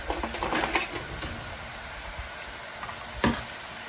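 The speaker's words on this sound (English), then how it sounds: "we're gonna fry these guys up" Salisbury steak patties frying in a pan, a loud close crackling sizzle with a burst of spitting near the start and a sharp clatter or pop toward the end, no voices.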